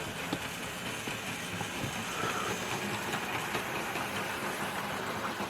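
A model Jinty tank locomotive in Prussian blue Somerset and Dorset Joint Railway livery runs round a model railway layout, giving a steady, continuous whirring rumble with faint clicking and no talk.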